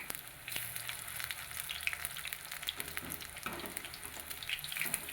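Cabbage pakoras fry in hot oil with a steady, close sizzle and crackle that runs the whole time, with a few soft stirring and scraping sounds and no talking.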